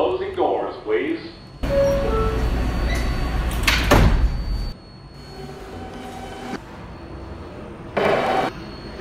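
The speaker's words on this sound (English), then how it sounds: "Stand clear of the closing doors" A New York subway train stands at a station, with a loud rumble and hiss as the doors close and thump shut, followed by quieter platform ambience and a short burst of noise at the end.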